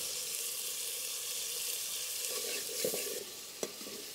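Pigeon meat cooks in a pan with onion, garlic, ginger paste and spices, giving a soft continuous sizzle with a few brief stirring scrapes near the end, moderately quiet and close.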